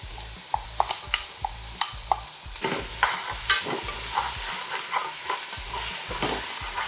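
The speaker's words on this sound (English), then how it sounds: "which is the garlic, ginger, pimento, and celery. Let this saute for a bit." Garlic, ginger, pimento, celery and pumpkin sauté in a pot. A spoon scrapes and knocks in sharp, close taps, and after about two and a half seconds a louder, steady sizzle rises beneath the stirring. No talking.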